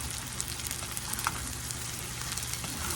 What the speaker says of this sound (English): Now, let's get this corn going in here. Time to put the golden kernels in there